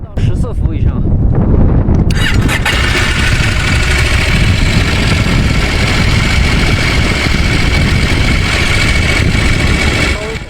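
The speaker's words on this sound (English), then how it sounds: "It should be able to start the engine once." A vehicle engine cranks briefly and then catches on a high-altitude plateau in Tibet, settling into a loud, steady rumble that carries on, recorded close with some wind noise.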